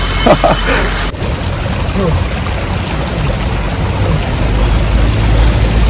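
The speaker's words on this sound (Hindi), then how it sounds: "बहुत ही शानदार है बहता पानी" Cool flowing stream water rushing and gurgling steadily nearby, a continuous outdoor wash of sound with some faint voice activity mixed in.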